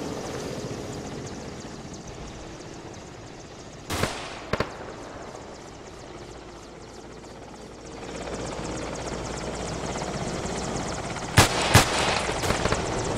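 Helicopter in a military shooter video game fires at the player: a steady rotor drone runs throughout, broken by a few sharp gunshot bursts near the start and a louder cluster of shots near the end.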